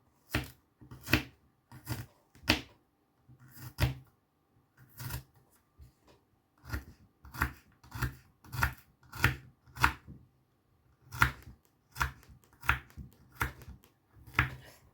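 Garlic finely chopped with a knife on a board: a long run of crisp, close knife taps in short bursts with brief pauses, the strokes quickening toward the end, nothing else heard.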